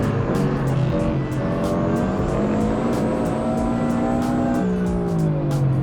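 A 400 hp Subaru WRX drives hard on a track, its engine note loud and continuous, pitch sliding up through the revs and dropping as gears change, with sharp ticking transients over the drone.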